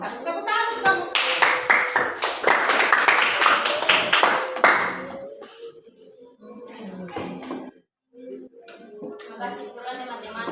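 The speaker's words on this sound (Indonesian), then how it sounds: "Tepuk tangan untuk kelompok 1." A classroom group claps rapidly for several seconds, then the applause fades and people talk.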